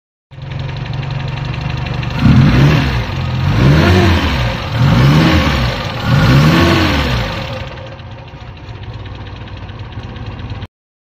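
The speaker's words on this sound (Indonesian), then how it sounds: "Sekarang coba kita dengar suara mesinnya." A 1973 Fiat sedan engine idles steadily and is revved four times in a regular rise-and-fall rhythm before settling back to idle, close and loud with no talk.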